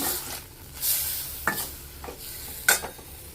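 A large tomato fries in a pan for spinach chutney, stirred with soft sizzling and a few sharp scrapes and clinks of the utensil against the pan, close and fairly quiet, with no talking.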